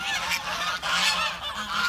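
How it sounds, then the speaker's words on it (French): Geese on a muddy, rain-soaked farm honking loudly and close, a dense overlapping flock of nasal calls repeating without pause throughout. "Et là tout de suite on a les oies."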